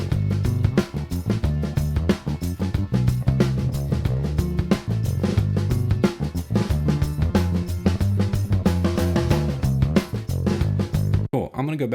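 A snare drum track recorded over-biased on a Studer A800 tape machine, with high end added back, plays within a full music mix: a steady driving beat with bass and other instruments, continuous and fairly loud, with no talking.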